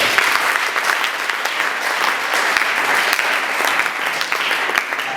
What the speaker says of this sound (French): nous allons applaudir